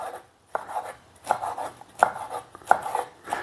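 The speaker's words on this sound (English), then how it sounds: "Then I have fresh basil, which I'm going to chop." A knife chops fresh basil on a cutting board: a handful of crisp, close taps in an uneven rhythm, with brief pauses between strokes and no talking.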